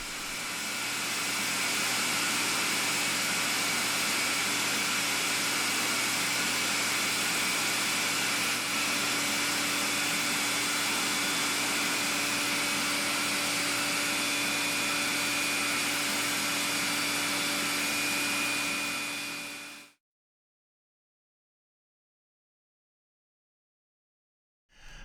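A barrel trimmer cuts ebony pen blanks with a steady, loud motor drone and whine. It runs continuously for about twenty seconds, then cuts off into silence, with no talking.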